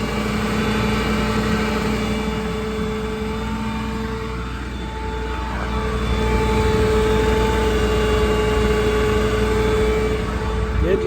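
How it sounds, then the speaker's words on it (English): A 2016 Ford F-550 utility service truck with a V10 Triton engine idles steadily with a loud, constant low rumble and faint whine, while a voice talks quietly in the background. "The engine sounds healthy. It's a V10 Triton."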